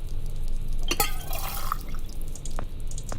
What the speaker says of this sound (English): Use cup with dripping water.